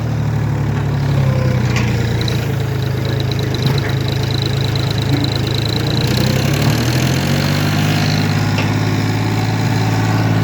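A tractor engine works a soybean field with a roller, its steady low rumble running throughout amid a rattling, clattering mechanical wash.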